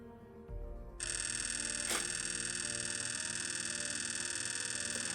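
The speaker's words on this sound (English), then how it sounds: "So I can just hold down the shutter and the camera will keep firing." Sony RX100 VII compact camera firing in continuous burst mode, a rapid, steady mechanical whir of shutter clicks that starts abruptly and holds without pause, close and fairly loud.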